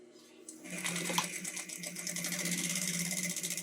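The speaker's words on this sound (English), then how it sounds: "And then we're going to sew down this edge and get, and encase that stitching" Sewing machine running steadily as it stitches down the edge of a roll-up tote bag, a continuous close, moderately loud mechanical whir with rapid needle chatter after a brief quiet start.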